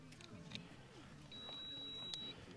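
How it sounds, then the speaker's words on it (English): A trolling motor gives a thin electronic beep at close range as its battery is connected, a steady high tone lasting about a second over faint background noise. "When you do hook the battery up, it has an audible signal that it's connected to the battery."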